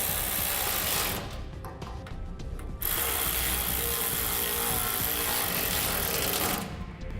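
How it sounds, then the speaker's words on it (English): A 10mm socket ratchet tightens lock nuts on a utility trailer, giving a loud, continuous mechanical whirring and clicking that runs nearly unbroken, close by, with a brief dip partway through. "To tighten these down, I'm just using a 10mm socket."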